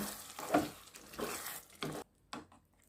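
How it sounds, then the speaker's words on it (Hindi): Malai paneer being stirred in a pan after the gas is switched off, giving a few close scraping, stirring bursts with faint residual sizzle and short quiet gaps between strokes. "अभी गैस को ऑफ करते हैं, अच्छे से मिक्स करते हैं।"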